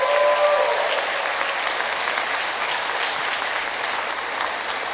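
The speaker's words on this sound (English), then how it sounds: "Let's give them a round of applause." Audience applauding 50 outstanding teachers at the 2025 Extra Yard for Teachers Summit, a dense, steady wash of clapping from a large crowd, sustained and evenly loud throughout.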